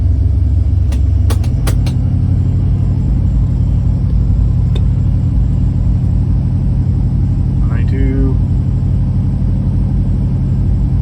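Motorhome engine idling in front of a shop: a steady, loud low rumble that runs unbroken throughout, with a few faint clicks early on and a brief higher tone partway through.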